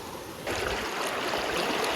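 A river rushes at Athirappilly in the dry season, with low water. Its steady broadband wash is close and continuous and grows noticeably louder after the first half-second.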